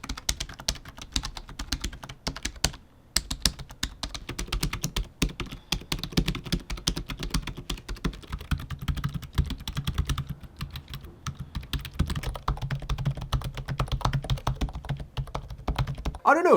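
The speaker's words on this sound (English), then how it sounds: "Let me play you some sound clips so that you can get an indication of what each one sounds like" Fast, hard typing on a pre-built gaming PC keyboard, dense rapid key clacks close to the mic with brief pauses between bursts, loud and continuous.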